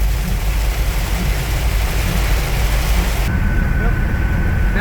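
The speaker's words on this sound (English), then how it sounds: "sunny to pouring rain. The wipers are on high and won't keep up." Heavy rain pours onto a moving 1977 Ford Thunderbird with the wipers on high, a dense, loud hiss of rain and road noise that continues steadily throughout.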